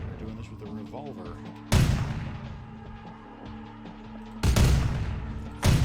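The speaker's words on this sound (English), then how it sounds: "We're doing this with a revolver." Revolver gunfire in the video game Vampire: The Masquerade – Bloodlines: three loud, booming single shots, well spaced, each with a long decaying tail. Someone talks over the game sounds.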